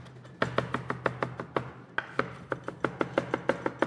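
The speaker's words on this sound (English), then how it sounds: "Rotate your blade around and just continue to chop." A kitchen knife chops parsley on a board in a brisk, steady rhythm of crisp close thuds, roughly four or five per second, with a brief pause partway through before the chopping resumes.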